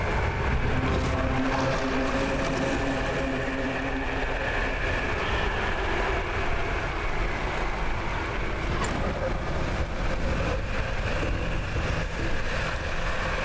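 A boat engine burning out in the fishing video game Dredge: a steady, loud droning engine rumble with grinding mechanical texture runs continuously throughout, with no voices over it.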